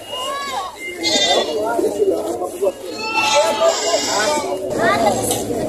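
Several Boer goats bleating over one another at a goat market, close and loud, with a steady murmur of a crowd behind them.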